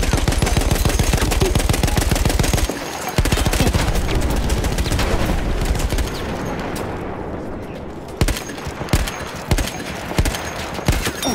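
Rapid automatic gunfire in Battlefield 1 aimed at the player, with bursts of close shots, a brief lull, then scattered sharp single cracks and distant rattling fire.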